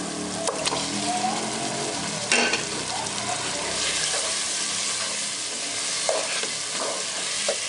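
Chicken browning in a pan with salt and spices for an aloo palak chicken dish gives a steady, close sizzle, with stirring scrapes and a few sharper clatters breaking through.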